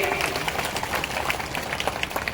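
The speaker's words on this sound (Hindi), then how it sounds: "जरा बजाओ ताली महिलाओं के लिए।" A crowd at a beneficiaries' gathering in Mungaoli claps for the women in the audience, a dense, steady patter of many hands close by that keeps going without pause.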